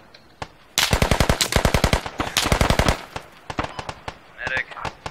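Loud automatic gunfire in the video game Squad, rapid rhythmic bursts of shots in several long strings, with voices talking between and over the firing.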